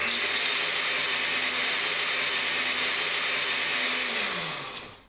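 A blender whizzing a lime mixture until smooth, a loud steady whirring that holds evenly, then spins down and stops at the end.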